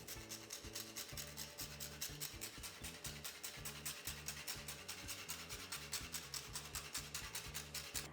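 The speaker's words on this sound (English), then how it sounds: "I'm gonna grate some fresh cinnamon over my cake" Fresh cinnamon stick grated over a tres leches cake, a quick, regular rasping scrape repeated in fast back-and-forth strokes, close and faint throughout.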